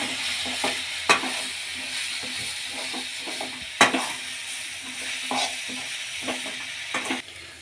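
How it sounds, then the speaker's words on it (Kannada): A spoon stirs through a sizzling soya keema mixture seasoned with spices and lemon juice in a hot pan, with repeated scraping strokes and occasional sharper knocks against the pan over a steady frying hiss. "ಈಗ ಮಿಕ್ಸ್ ಮಾಡೋಣ"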